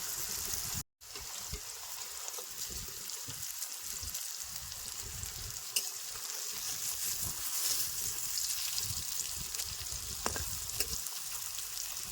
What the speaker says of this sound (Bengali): ধোকাগুলারে এপিট ওপিট করে বেশ সুন্দর ধরেন লাল লাল করে ভাজে নিছি